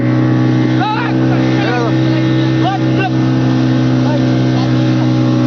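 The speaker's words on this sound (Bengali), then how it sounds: "দেখো ভাই ট্রলারটা ডুবে যাচ্ছে, দেখো আমরা যাচ্ছি বোট নিয়ে" A motorboat engine drones steadily at sea off Digha as the boat heads toward a sinking trawler. Voices call out over the continuous engine hum.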